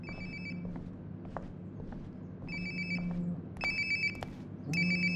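A mobile phone rings in short repeated bursts in Life is Strange: Before the Storm, the electronic ringtone growing slightly louder as if approached, with faint footsteps and soft background ambience.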